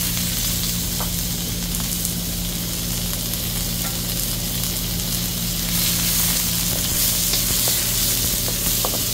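Pork frying in a pan, a steady loud sizzle that holds evenly throughout with occasional small pops, close up and without voices.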